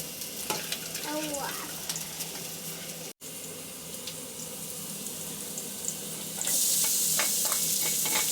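Green chillies fry on a tawa with a constant hissing sizzle and light clinks. A brief squeaky tone comes early, then a momentary dropout, and the hiss grows noticeably louder and brighter near the end.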